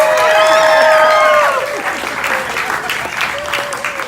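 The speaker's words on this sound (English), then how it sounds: "Let's hear a round of applause." Wedding guests break into loud, dense applause during a father-of-the-bride speech, with cheers on top, then the clapping thins and fades.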